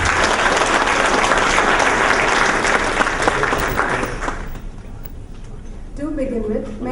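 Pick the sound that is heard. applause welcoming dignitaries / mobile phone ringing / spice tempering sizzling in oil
applause welcoming dignitaries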